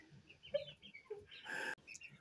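Young chickens and baby chicks out in a yard, giving a series of short clucks and soft chirps at close range, with a brief rustling burst partway through and no talking.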